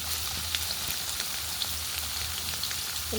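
Coconut pieces fry in oil for a coconut and raw mango chutney, giving a steady, close, even sizzle with scattered tiny pops throughout, no voices.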